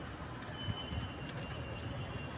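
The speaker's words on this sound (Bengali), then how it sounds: "ওই সাইডে কিছু পায়রা আছে, দেখাবো" Pigeons kept at home coo softly in the background, low gentle calls over a faint, steady room hiss.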